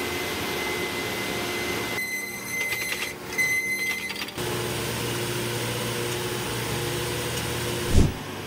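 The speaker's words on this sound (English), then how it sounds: "This machine is used to harvest acorn, butternut, buttercup, and Hubbard squash." A squash harvesting machine runs with a continuous mechanical drone, shifting to a rattling, geared clatter midway before settling back into a steady hum, ending with a brief knock.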